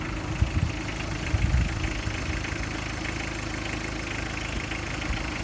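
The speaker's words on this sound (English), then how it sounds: "The engine's running." A 1988 VW Syncro engine idles close by with a steady, even rumble, broken by a couple of small knocks near the start.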